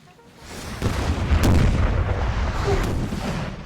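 12-pounder artillery cannons firing in Napoleonic: Total War 3, a deep booming report that swells and rolls on with distant echoing rumble, a couple of sharper cracks on top.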